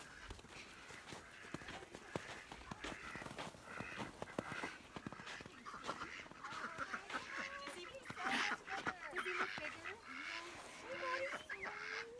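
Muscovy duck and other farm sanctuary birds call repeatedly in short honking and hissing bursts at moderate distance, mixed with scattered footsteps and rustling, with faint human voices in the background.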